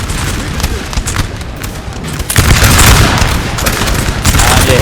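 Massed musket volleys crackle in a Napoleon Total War battle, with dense overlapping gunfire, rolling booms and a loud, continuous battlefield roar that swells midway through.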